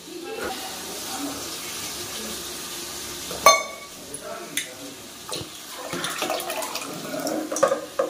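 Water poured from a tumbler into rice for South Indian tomato rice, a close splashing gush with hissing and a few clinks of utensils, heard in short bursts without talk.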